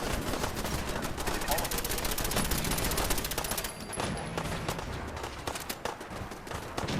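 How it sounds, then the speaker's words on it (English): Rapid automatic turret gunfire in Fallout 4 survival mode while defending the Castle, a dense, continuous rattle of shots that thins slightly near the middle, with a voice talking over it. "I'm catching fire from my own turrets, aren't I?"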